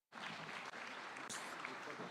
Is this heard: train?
no